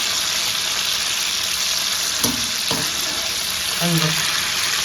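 Green chillies fry in a pan with a loud continuous hiss and crackle, broken by a couple of sharp clinks and a short scraping stir toward the end.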